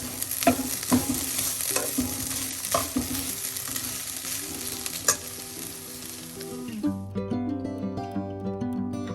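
Violet cabbage thoran, seasoned with salt, sizzles in a pan while a spatula stirs it in repeated close scrapes and knocks; from about seven seconds on, music plays over the quieter frying.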